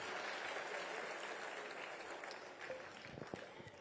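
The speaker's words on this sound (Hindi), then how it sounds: "तालियां बजती रहनी चाहिए लगातार।" Applause from an audience in an auditorium at a spice workshop, a dense, steady wash of clapping heard from a distance and fairly faint, thinning a little toward the end.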